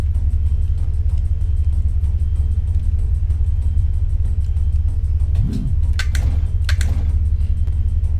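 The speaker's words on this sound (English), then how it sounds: "Hear that sequential shifter?" A race car's sequential shifter in Assetto Corsa EVO gives a few sharp clunks and clicks over a loud, steady engine drone, with a brief engine pitch sweep as the gear changes.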